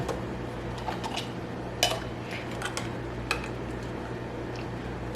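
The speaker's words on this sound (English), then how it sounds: "we'll start off by filling up each of these jars" Homemade fruit cocktail pieces are spooned into glass canning jars, with scattered light clinks and taps of spoon on glass over a soft background hum.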